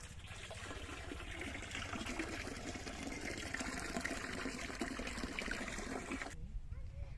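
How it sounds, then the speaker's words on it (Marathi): Water runs from a hose outdoors at a borewell in the morning, a steady broadband rush of flow close by that continues evenly and then cuts off abruptly near the end. "नळीला पाणी आलं इथं"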